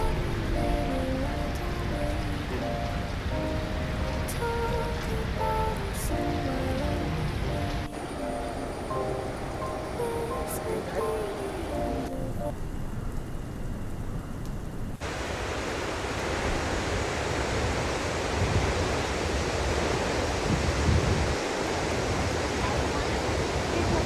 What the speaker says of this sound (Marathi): धबधब्याचा आवाज जसा कानावर येऊ लागला